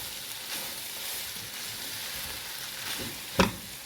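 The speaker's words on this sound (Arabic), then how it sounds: "هنقلب بقى كده السجق بتاعنا" Sausages sizzling in a frying pan as they are turned over, a steady close crackle with a sharp clatter of utensil against the pan near the end.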